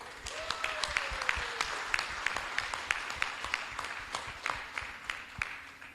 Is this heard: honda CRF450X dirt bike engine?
no